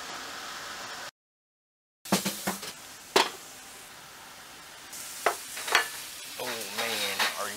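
Horseneck clams steaming in their shells with soy sauce, green onions and parsley, a steady sizzle and frying hiss broken by a brief silent gap, with a few sharp clinks and scraping stirs close by.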